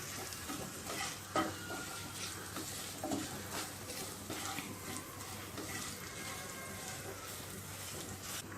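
Chili powder, ground coriander and cumin and amchur powder are stirred in a frying pan, producing a quiet, steady sizzle with occasional scrapes and taps of the utensil.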